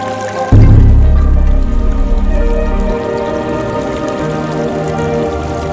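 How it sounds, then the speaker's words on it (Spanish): Water flows and trickles continuously at a Puerto Madero development in Argentina, a soft splashing wash with dripping detail, accompanied by a low tonal hum or music that swells at the start and then settles. "El sonido del agua y su presencia permanente"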